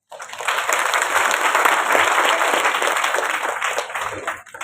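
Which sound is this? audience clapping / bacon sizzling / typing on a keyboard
audience clapping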